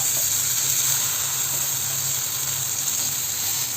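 Eggplant pieces frying in oil in a pan on a gas stove make a steady, close, even sizzle with a bright hiss that holds without pause, and no one speaks.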